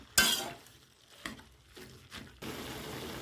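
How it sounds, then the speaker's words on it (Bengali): Spinach tossed with fried vegetables in a pan for a prawn and spinach ghonto, heard as a sharp first scrape followed by scattered soft stirring strokes and a low sizzle that swells near the end. "পালং শাকটা দিয়ে দিয়েছি, ভালো করে নেড়ে চেড়ে নেবো।"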